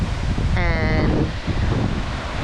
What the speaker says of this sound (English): We're still getting gusts up to about 45-mile winds.